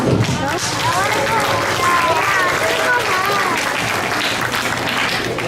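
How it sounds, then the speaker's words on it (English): An audience claps for a school advanced band in a steady, dense round of applause, with voices calling out faintly in the mix throughout. "let's give a round of applause"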